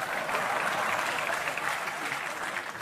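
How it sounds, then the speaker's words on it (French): Steady, dense audience applause at a comedy stand-up show, loud and continuous throughout with a crowd-wide wash of clapping and no break. "Arrête d'applaudir"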